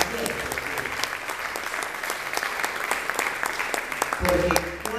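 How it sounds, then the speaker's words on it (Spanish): Steady, strong applause from a church congregation, continuous clapping throughout with some voices and a low tone rising near the end. "Aplauso fuerte"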